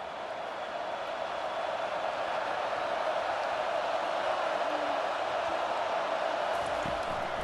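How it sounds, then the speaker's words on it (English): A stadium crowd at a College Football 25 game, UCLA against Ohio State, holds a steady, even roar with no clear peaks or cheers. "Crowd starting to simmer down a bit"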